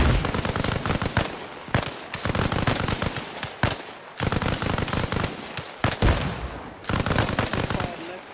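Bursts of automatic gunfire in the video game Arma Reforger, loud, close and rapid, in several sustained volleys broken by short pauses.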